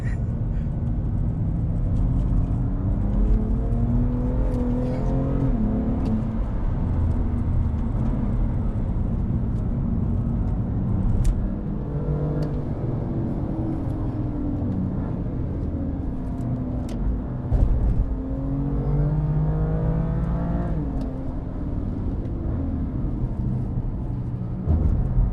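A BMW M2 Competition on fresh Goodyear Eagle F1 SuperSport tyres lapping Brands Hatch circuit, engine droning steadily with rising and falling revs and a constant low rumble throughout, heard from inside the car.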